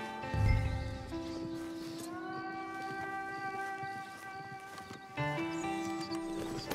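Horse hooves clip-clop along a track with a horse-drawn wagon in Red Dead Redemption 2, a steady moderate plodding beside a brief whinny early on, set against a sustained tonal game music bed.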